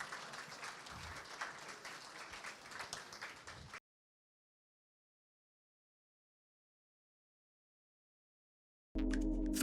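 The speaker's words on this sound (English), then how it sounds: "Let's give a round of applause to Andy, to Emma and to Victoria." An audience at a televised discussion panel gives a burst of applause lasting a few seconds, which then cuts abruptly to silence before an unrelated loud sound begins at the very end.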